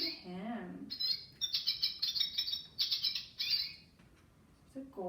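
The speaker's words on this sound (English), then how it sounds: "I think this is a goldfinch. Listen to him." A goldfinch sings a quick run of bright, twittering chirps and trills in several close bursts, loud and near, with a brief voice heard before and after.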